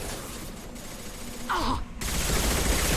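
Mass Effect 2 Legendary Edition combat with shotgun blasts amid heavy, continuous gunfire, loud and dense, with a brief dip in the middle before the firing resumes harder.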